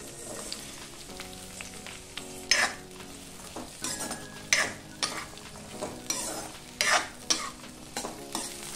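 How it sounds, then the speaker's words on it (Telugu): Red chillies frying in groundnut oil in a kadai for tomato and red chilli pickle, with a soft steady sizzle broken by repeated spatula stirs and scrapes at a regular rhythm, no voices. "నూనె కాగాక ఇందులోకి మిరపకాయలు వేసుకోవాలి"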